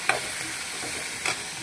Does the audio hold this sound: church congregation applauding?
no